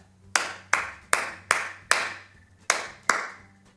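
Bare hands clap out a rhythm of seven sharp, close claps with uneven spacing, each ringing briefly in a quiet room with no talking, as a music lesson on note values.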